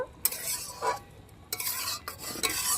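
Cauliflower and potato curry being stirred with crushed cardamom and sugar in a pan, a few scraping spoon strokes and soft sizzle in short bursts, close and fairly quiet.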